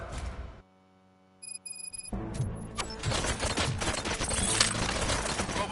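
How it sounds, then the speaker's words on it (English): Gunfire in the video game RoboCop: Rogue City: a dense, loud fusillade of shots rattles on after a short lull with a few beeps, continuing steadily to the end. "Gunshots? What's going on?"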